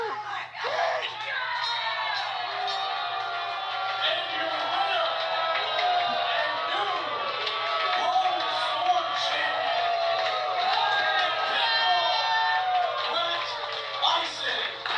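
Wrestling arena crowd roaring and shouting in displeasure, a loud, continuous mass of voices with scattered yells and whoops throughout.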